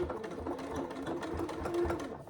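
A sewing machine backstitches along the open edge of a bag strap in a steady run of rapid stitching, close and fairly quiet, with a slight rhythmic pulse as the needle works back and forth.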